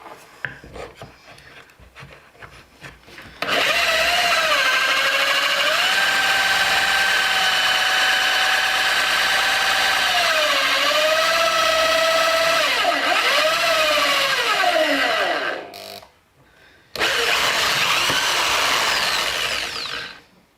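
A power drill bores into a wooden speaker cabinet built for a Fane Sovereign 12-250TC driver, whining loudly and steadily with its pitch dipping under load, then stopping briefly before a second burst.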